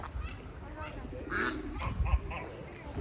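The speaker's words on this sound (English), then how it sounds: "you've got a bunch of ducks" Ducks quack repeatedly in a park in Cascais, Portugal, against a busy outdoor background, with geese honking and faint voices mixed into the steady ambient noise.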